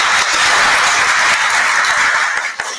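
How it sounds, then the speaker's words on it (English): A dense, steady wash of applause from a summit audience for a panel, loud and continuous, tapering slightly at the very end. "A big round of applause to our distinguished panelists"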